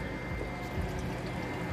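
Motor oil from the drain of a 2010 Honda Odyssey trickles into a drain pan with a soft, continuous liquid patter, faint and steady, with no voices.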